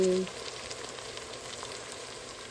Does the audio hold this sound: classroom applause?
no